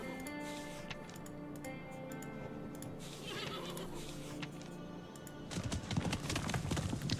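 Hooves clop rhythmically over a background of tones, and near the end a horse whinnies loudly, in the video game Above Snakes.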